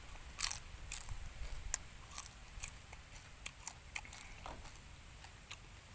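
Crispy skin of a whole roast pig is bitten and chewed up close, with a quiet series of sharp, irregular crunches and crackles and no speech.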